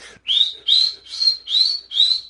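A voice imitating a lifeguard whistle, five sharp rising whistle-like blasts in a steady rhythm, loud and close with no other sound.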